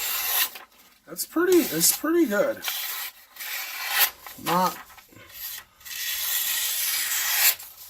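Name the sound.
Ganzo F7551 knife edge slicing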